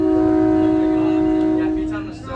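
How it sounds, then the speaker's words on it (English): A Nippon Sharyo diesel multiple unit, SMART train #112 running northbound to Sonoma County Airport, sounds one loud, sustained multi-tone horn blast lasting nearly two seconds before cutting off, leaving a fading engine rumble. "Oh, it just blew the horn."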